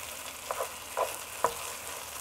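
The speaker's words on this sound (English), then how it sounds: "Now it's the time to add the tomato paste. And I'm gonna saute that about 2 or 3 more minutes." Tomato paste sautés in a pot for Persian okra stew, a steady low sizzle with three brief stirring scrapes, quiet and close.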